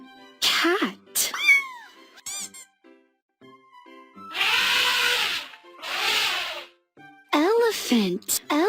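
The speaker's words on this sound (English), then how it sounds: "Cat, cat." Domestic cat meowing in a string of separate calls, close and clear, with short pauses between them and brief sneeze-like bursts mixed in; no speech over the calls.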